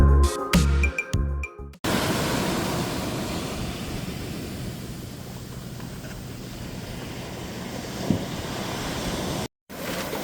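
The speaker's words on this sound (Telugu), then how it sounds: "వీడియో తీసినప్పుడల్లా కూడా పెద్ద వేవ్స్ అయితే వస్తుంది" Large sea waves breaking on Varkala beach in Kerala, India, a continuous surf wash with wind buffeting the microphone, preceded by a short burst of sharp handling knocks and a brief dropout near the end.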